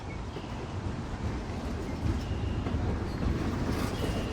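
A train rolls past in Life is Strange, a steady broadband rumble that holds at an even loudness throughout, close and continuous with no voices over it.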